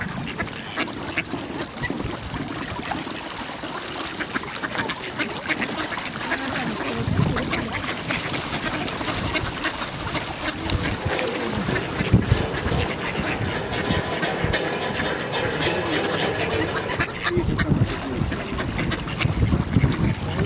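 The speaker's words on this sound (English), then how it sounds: "these are all just regular mallard ducks, quite common. But yeah, a lot of them. Very quacky," A large flock of common mallard ducks quacks constantly at a partly frozen lake in Gatchina park, forming a dense, busy chorus throughout with wind noise underneath.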